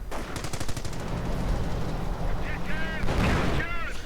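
A .30 caliber machine gun in a World War II strategy game fires in rapid sustained bursts, dense and rattling, mixed with other battle noise under a commentator's voice.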